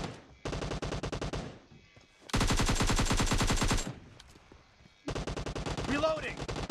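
Automatic gunfire from a PUBG Mobile team deathmatch rattles out in three loud, sustained bursts separated by short pauses, the middle burst the densest.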